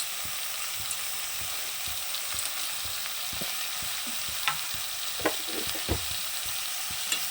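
Dried shrimp and tomato curry sizzles steadily in a pan while a spoon stirs it, scraping and knocking a few times over a constant close frying hiss.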